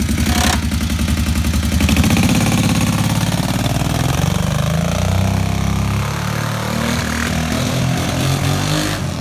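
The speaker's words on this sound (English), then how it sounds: "Запускається чотенько, все наче окей." Kawasaki Brute Force ATV engine cranking and firing up, then settling into a loud, steady rumbling idle with a throaty mechanical clatter, close to the machine.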